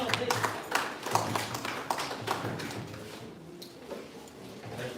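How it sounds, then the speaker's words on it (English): Audience clapping at the commissioning ceremony of an incubation and co-working hub, a steady patter of hand claps from a moderately near crowd with murmured voices underneath, gradually thinning out toward the end. "Please let's clap for the man who's pushing all of this."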